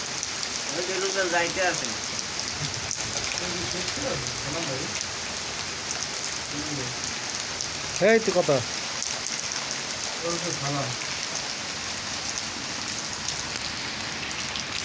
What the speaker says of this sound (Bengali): অনেক দিন পর বৃষ্টি নামছে দেখেন।